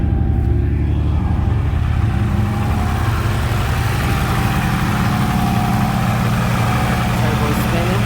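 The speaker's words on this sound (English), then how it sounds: "Turbo spinning." A turbocharged Lexus SC300 engine idling, a loud, steady low rumble with constant vibration and a faint whine on top, running without change throughout.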